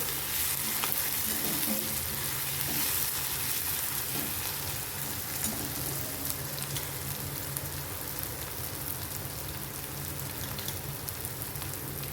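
Roasted peanuts being sautéed in a pan while making upma, a steady dense sizzle of hot oil running throughout with faint stirring underneath, fairly close and constant.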